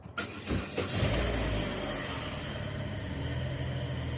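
A Holden Barina with a nearly flat battery cranks briefly, then the engine catches and settles into a steady, close idle.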